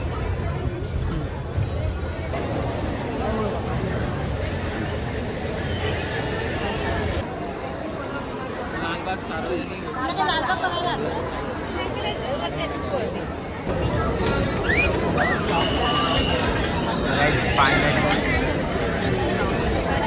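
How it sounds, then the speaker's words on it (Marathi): Dense crowd at the Lalbaugcha Raja pandal in Mumbai, a continuous hubbub of many overlapping voices and chatter close around, shifting in texture across several cuts. "आणि गर्दी बघा ना."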